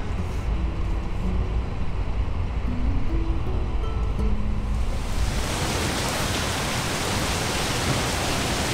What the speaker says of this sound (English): you might be able to hear the really, really loud water that is just dripping at the moment and the turning of the water wheels